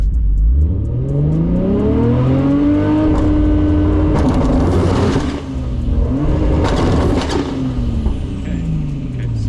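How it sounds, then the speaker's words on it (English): A Nissan Skyline R34 GTR revs and makes a rolling launch, the engine note sweeping up and down several times before a hard pull with crackling bursts, loud and close. "So that's your rolling launch."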